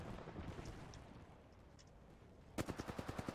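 A Knuckle Cluster grenade in Apex Legends sets off a rapid, evenly spaced string of about eight small explosive pops near the end, quiet and distant over soft ambient game noise.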